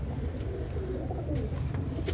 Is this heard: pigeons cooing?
yes